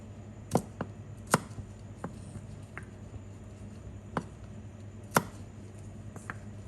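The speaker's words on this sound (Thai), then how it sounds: "เตรียมหั่นผักชีค่ะ" A knife chops cilantro on a cutting board in sparse, irregular strikes, close and crisp, with no talking.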